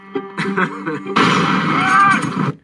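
Large blast from a Red Dead Redemption 2 gameplay trailer bursts in after some tonal sound and rumbles on loudly for over a second before cutting off, with voices faintly mixed in.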